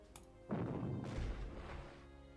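Artillery fire across the English Channel in the Panzer Corps war game, Operation Sea Lion: a single deep, booming shot that swells and rolls out over about two seconds, heard alone.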